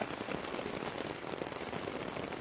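Steady rain hiss with scattered nearby drop impacts, a constant wash of patter at moderate level and no one talking.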